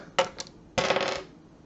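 A die tumbles across a tabletop in a Strontium Dog tabletop skirmish game. Two close, crisp rattling bursts, a short tap followed by a longer clatter, with no voices.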